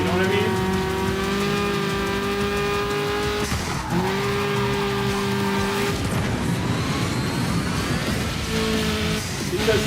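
A car engine revs and accelerates in a racing video game, the pitch climbing through gear changes with tire squeal, loud and continuous, while people talk over it.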